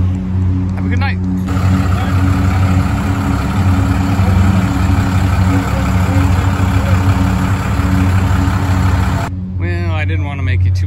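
A restored 1955 car with a 4-speed and a 350 engine idles steadily, its low, continuous rumble loud and close. Brief stretches of talk at the start and end frame the sound.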